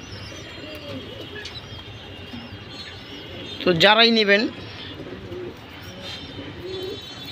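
Fancy pigeons coo softly and steadily at close range while someone speaks briefly over them, one nearby call rising loud and warbling mid-way.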